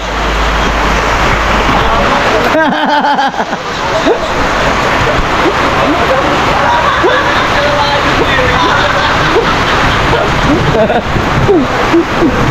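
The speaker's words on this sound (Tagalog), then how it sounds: "Bigla na lang lumakas yung ano, ulan." Heavy rain pours steadily and loudly, a constant dense hiss with splashing, under a faint murmur of voices and passing traffic.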